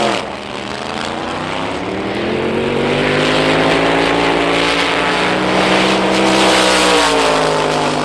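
Loud, continuous roar of high-powered 1963 drag racing cars, a thick droning blast that swells and holds steady throughout.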